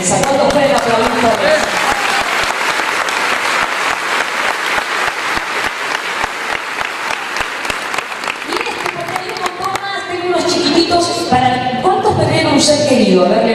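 Audience at a conference talk in Chaco breaks into loud, sustained applause, a dense wash of many hands clapping that fills the room, with voices rising over it toward the end.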